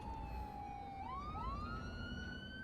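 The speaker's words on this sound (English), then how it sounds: "Oh, why are there sirens?" Emergency vehicle sirens wail inside a city-building video game, rising and falling tones overlapping softly at a distance over a faint background hum, no talking.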